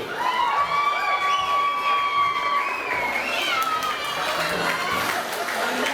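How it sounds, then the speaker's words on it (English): A crowd cheers and whoops loudly and continuously, with a shrill whistling tone rising above the roar early on. "Make some noise for Tracy Pierce and Brent Ducati."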